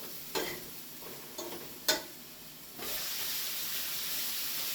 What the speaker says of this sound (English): And the pork chops are frying.